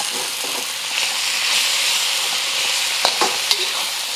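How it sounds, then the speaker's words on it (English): Beef searing in a hot pan for a saucy Chinese diner-style beef on rice, a continuous close sizzle with a few short scraping stirs near the end. "Just gonna let that sear a little bit on the bottom before I stir it around a little bit more."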